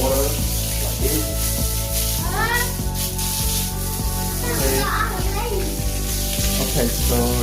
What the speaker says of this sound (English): It just spray the water like this.